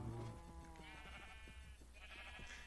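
Sheep in the Minecraft video game bleat in a few quiet, wavering calls one after another, faint and without speech.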